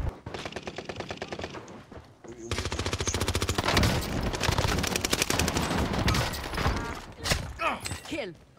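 Rapid automatic gunfire from an MP40 submachine gun in Call of Duty Vanguard Warzone on Rebirth Island, long loud bursts with brief gaps, and a player voice briefly breaks in.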